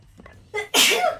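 One loud sneeze, a short intake followed by a sharp explosive burst, close by and alone.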